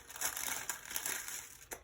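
Close, crackly crinkling of stiff wax paper being handled and crumpled, a continuous dry rustle with a few sharper crackles, no voices.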